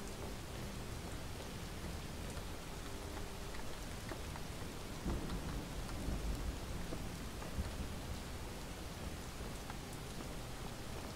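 Heavy rain and rumbling thunder in the video game Relics of Hyrule, a steady, dense downpour hiss with a low thunder roll swelling midway, fairly quiet overall and with no voices over it.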